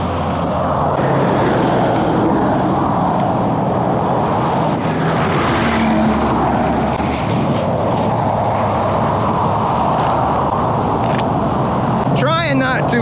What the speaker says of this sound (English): now we're on the side of the highway, waiting,